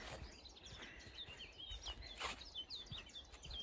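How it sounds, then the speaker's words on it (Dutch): Small birds chirping in the distance outdoors near oak shrubs and nettles, faint scattered high tweets over a soft background hiss. "Ik hoor de vogeltjes in de verte."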